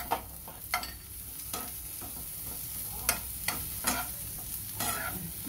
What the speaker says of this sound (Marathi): याच्यामध्ये शिमला मिरची टाकते